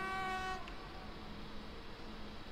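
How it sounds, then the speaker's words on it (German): A train horn in the Train Simulator game sounds a sustained tonal blast for about half a second, then gives way to a steady rumbling hum of rail ambience. "Wer hupt denn da so unverschämt?"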